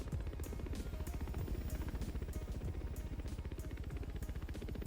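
A helicopter's rotor thumps in a fast, steady rhythm over a loud engine drone, close and constant throughout, in the video game The Crew 2.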